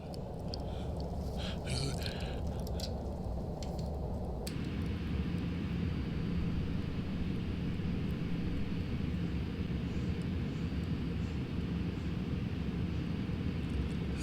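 A steady, low jet roar fills the cockpit of a B-47 jet bomber in a flight simulator game, heard near and constant, with a brief shift in tone early on.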